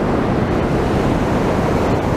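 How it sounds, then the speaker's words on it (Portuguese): Water rushing at the Cachoeira do Paraitinga waterfall in Silveiras, heard from inside the falls: a steady, loud, dense roar that fills the clip with no break. "tô dentro da cachoeira aqui"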